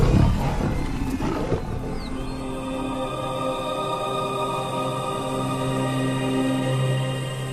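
A pride of lions attacking a giraffe lets out a loud, raspy roar and growl at the start. The roar then fades under steady, sustained droning tones that carry on for several seconds.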